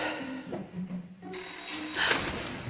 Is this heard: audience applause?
no